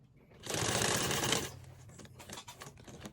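Sewing machine stitching through a martial arts gi being customized, a steady dense whir lasting about a second, loud and close, then stopping, followed by quiet handling noise.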